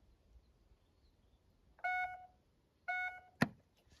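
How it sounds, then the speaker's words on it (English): A Mercedes electric tailgate gives two distinct electronic beeps, each tone lasting about half a second with a short gap between, then a sharp click follows, all fairly quiet against a still background. "Press and hold the closing button for 3 to 5 seconds until you hear 2 beeps."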